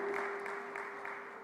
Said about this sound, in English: Keep the applause coming